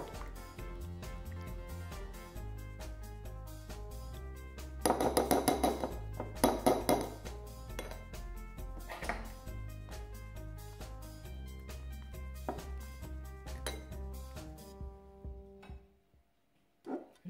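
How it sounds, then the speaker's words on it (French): Pie batter being stirred with milk in a bowl for a simple homemade tart, with repeated clinks and scrapes of a utensil against the bowl, loudest in a burst midway, over steady background music. "Donc, je vais tout bien mélanger."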